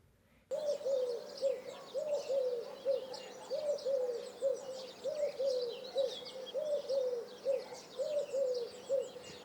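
Eurasian collared dove cooing in a repeated rhythmic series of soft, low calls, moderately close, with faint chirping of other birds in the background.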